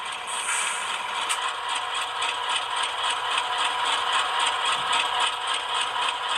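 An HO scale ScaleTrains AC4400CW model locomotive's digital sound system plays its air dryer effect: a steady hiss with a faint rattle over an idling diesel engine, continuous and even throughout with no talking.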